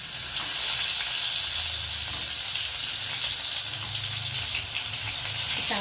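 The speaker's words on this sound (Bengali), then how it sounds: "এখন আস্তে আস্তে এবার বেগুনগুলোকে একে একে দিয়ে ভেজে নিই" Eggplant slices fry in oil on a tawa griddle, making a continuous close, even sizzle and hiss that holds steady throughout with no talk.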